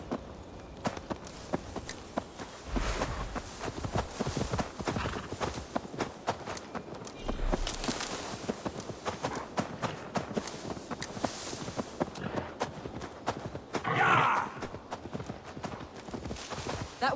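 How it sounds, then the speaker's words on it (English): Horse hooves clip-clop at a walking pace in Assassin's Creed Valhalla, a steady moderate rhythm with a brief louder burst near the end. "Now to deliver Magni his horse"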